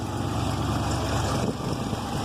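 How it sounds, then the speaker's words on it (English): A used vehicle, not started for a while before, idles with a steady, low rumbling exhaust, close and continuous without a break. "And you listen to the exhaust."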